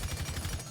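M762 rifle fitted with a flash hider firing in Rainbow Six Siege, a rapid automatic burst of closely spaced shots, loud and continuous for under a second.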